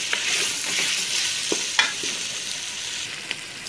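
Halim sizzles and fries in a pot while a spoon stirs it, a steady hiss broken by a few soft scraping knocks, close and without any talking.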